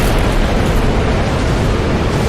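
A fire blast strikes the ground in Dark Souls Remastered, producing a loud, dense, continuous roar that holds steady without pause throughout, with no talk over it.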